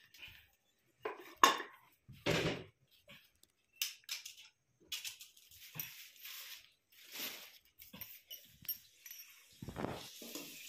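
Chicken curry cooking in a pot, with intermittent clinks and scrapes of a metal utensil against the pot, sharp close bursts separated by quiet gaps.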